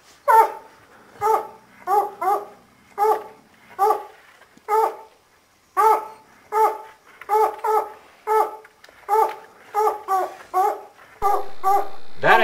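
Hunting dogs on a mountain lion hunt in Montana give repeated barks and baying yelps at a steady rhythm, moderately near, with short pauses between bursts and no talking.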